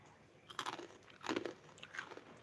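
Crisp chakli, a fried spiral Diwali snack, bitten and chewed close up, giving two or three sharp, loud crunch bursts with quieter crackling chews between them.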